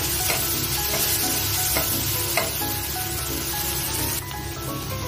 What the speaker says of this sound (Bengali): পেঁয়াজ, কাঁচা লঙ্কা, টমেটো আর রসুনটা দিয়ে এটাকে ভালো করে এগুলো ভেজে নেব।